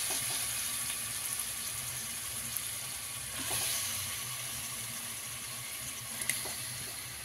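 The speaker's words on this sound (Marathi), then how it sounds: "तेलात टाकून घेऊन 1-5 मिनिटं ह्याला हे करून फ्राय करून घेऊया तेलामध्ये" Pieces of chicken fry in hot oil for a chicken curry, giving a steady, faint sizzling hiss with a few small pops and crackles and no voices.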